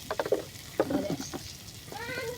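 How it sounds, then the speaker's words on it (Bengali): Ginger and onion being fried together in a pan, with short patters and stirring scrapes and a soft underlying sizzle, close and moderately loud, while a faint voice is heard in the background. "আদা আর পেঁয়াজ একসাথে একটু বাজিয়ে নিব"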